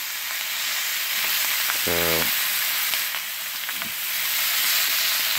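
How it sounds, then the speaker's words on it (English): Bratwurst searing in a hot pan, a steady loud sizzle and hiss of frying throughout, with a brief scrape of stirring and a short spoken word near the start. "letting the inside portion sear and cook up before I try to eat it with the rice"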